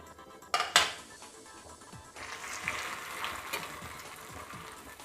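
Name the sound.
bread slices frying in a pan until golden red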